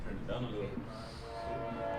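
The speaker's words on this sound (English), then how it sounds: "It's the train" A passing train sounds its horn in steady, sustained tones that hang in the distance over rumbling background noise, while people talk over it.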